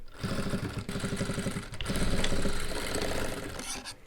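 Fur pieces being sewn together on a sewing machine, a dense, fast mechanical rattling that runs continuously and close, with a brief pause partway through.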